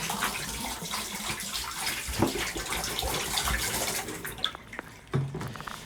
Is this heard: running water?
yes